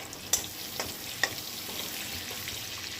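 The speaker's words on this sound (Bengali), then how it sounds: "ফোড়নটা একটু ভাজা ভাজা হয়ে যাবে।" A cinnamon stick, green cardamom and cloves fry in butter, giving a faint, even sizzle with a couple of small sharp ticks from the spices; no speech.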